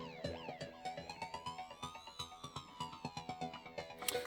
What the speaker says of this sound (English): Now that sound was created from the Jupiter.